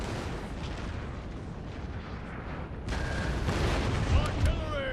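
Cannon artillery fire on a battlefield in Napoleon: Total War. Several fairly quiet booms rumble one after another, with a louder stretch of blasts and crackling toward the end.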